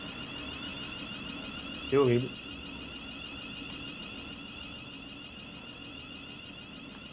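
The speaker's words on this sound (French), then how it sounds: "Le bruit c'est une sirène d'alarme le truc." A steady, shrill train alarm siren tone drones through the whole stretch in Train Sim World 3, on a Class 700/0 train, with a short spoken exclamation cutting in briefly near the start.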